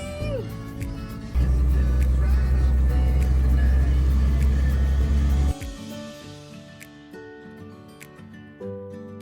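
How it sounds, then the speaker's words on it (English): A Jeep CJ7 drives with a loud, steady engine rumble heard from close by for several seconds before it drops sharply to a quieter idle with faint clatter afterward. "What are we doing? Jeep ride! Jeep ride!"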